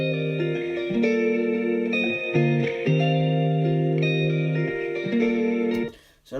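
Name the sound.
song chords played in the relative minor key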